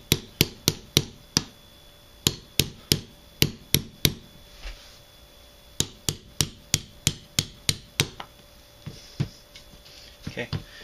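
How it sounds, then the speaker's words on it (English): A hammer drives a punch against the firing pin retaining pin of a CZ P09 pistol, giving close, sharp metallic taps in quick bursts of four to six strikes with short pauses between. "So we're gonna punch this retaining pin out."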